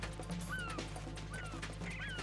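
Seagulls in Metal Gear Solid 2 give short, high, faint calls repeated three times at steady intervals over a low, constant game hum; no talking.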